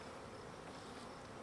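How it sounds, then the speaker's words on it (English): Honey bees from a captured swarm buzz in a steady, dense drone that holds unbroken throughout, fairly faint, with no voices. "And we got a bunch of busy bees here."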